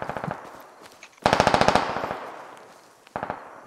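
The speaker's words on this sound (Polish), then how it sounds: "Słyszę strzały." Bursts of rapid automatic gunfire in the video game Squad on the Yehorivka map, a short opening volley, then a longer loud string of shots and another brief burst near the end, with no talking.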